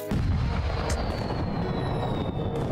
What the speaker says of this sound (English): Human cannon.